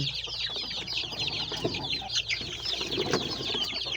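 Chickens clucking and chattering together amid a busy, noisy backdrop of many birds, steady and fairly close throughout.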